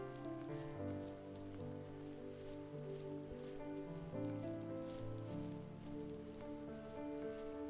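Gentle rain falls continuously in the video game The First Tree, a faint, even hiss of drops layered under slow, sustained music with no voices.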